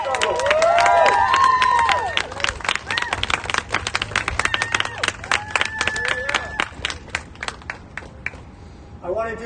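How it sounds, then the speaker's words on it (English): A crowd at a Black Lives Matter protest rally in downtown Los Angeles claps and cheers loudly, with shouting voices over the applause at first. The clapping stays dense and energetic, then thins and fades near the end. "Can we please get a round of applause for BLM and their struggle?"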